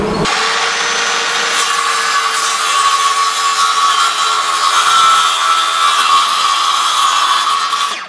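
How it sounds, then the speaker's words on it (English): A loud, steady sawing grind cuts through a wooden beehive frame holding wax foundation, running continuously for about eight seconds up close with no speech. "And now I cut through the entire frame with foundation, waxer, everything in the way."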